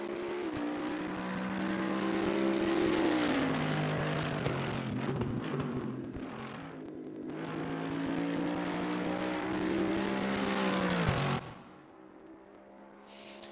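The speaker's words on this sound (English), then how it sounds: "Gotta love the sound of the AMG." A Mercedes-AMG race car engine in the racing game Assetto Corsa Competizione revs and shifts through gears, rising and falling in pitch before dropping off to a quieter idle near the end.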